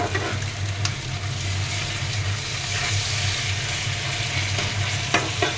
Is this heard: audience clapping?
no